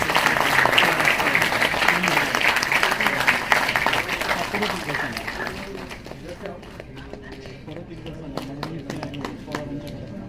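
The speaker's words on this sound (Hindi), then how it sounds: "जोरदार तालियों की गूंज में" Loud, dense applause from an audience at a public function in Aurangabad fills the first half, then thins and fades to scattered claps and room noise.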